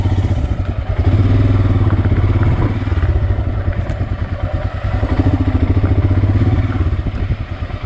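A motorbike ridden off-road on a rough path near Butterfly Beach in Goa, its engine a loud, close, pulsing drone that rises and falls with the throttle while bumps and rattles knock through.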